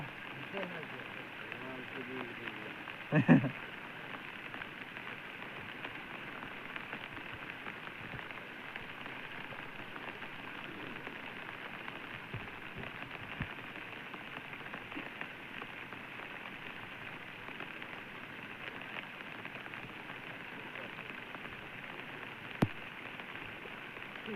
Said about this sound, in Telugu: ఎందుకంటే వర్షం అప్పుడు దాకా అసలు రెస్ట్ ఇవ్వకోకుండా అయితే వచ్చింది అనమాట వర్షం